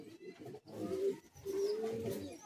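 Kolkata high-flying Madrasi pigeons coo in a loft, two low rolling coo phrases close by, separated by a brief dip, with no voices.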